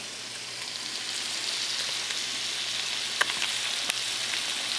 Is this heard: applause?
no